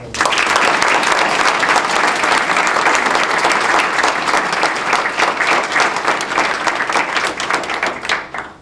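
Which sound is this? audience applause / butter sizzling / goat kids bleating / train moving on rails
audience applause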